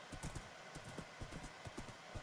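Quiet rhythmic clip-clop of a horse's hooves galloping in Minecraft, steady quick beats with no talk.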